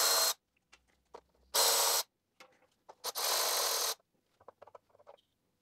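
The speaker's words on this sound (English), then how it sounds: "Now let's remove the sensor. We have three 10 millimeter nuts." Ratcheting or power tool run on the 10 mm nuts holding a BMW E46 oil level sensor on an N42/N46 engine, giving three loud, close buzzing bursts of roughly half a second to a second, separated by faint clicks and handling noises.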